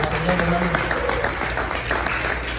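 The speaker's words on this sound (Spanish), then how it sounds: "Dele una ofrenda de palmas al Señor, hermanos." A church congregation applauding together, a steady dense wash of clapping that fills the space, with a voice speaking briefly over it at the start.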